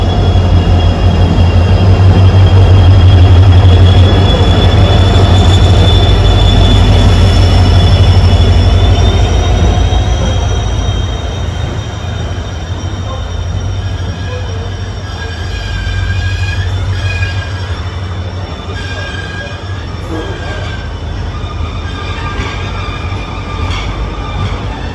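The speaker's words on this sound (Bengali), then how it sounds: "ট্রেন কিন্তু ঢুকলো ডিজেল লোকোমোটিভের সাথে" A Tirupati Rameswaram Express hauled by a diesel locomotive pulls into a station, loud and close, with a steady rumbling roar, drawn-out wheel squeals and rail clatter as the train slows.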